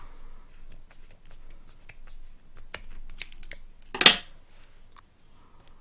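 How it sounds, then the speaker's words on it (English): Scissors snip grosgrain ribbon fabric, trimming excess from the base of a petal. Several light clicks lead to one sharp, loud close-up cut, then quiet handling. "trim the excess fabric"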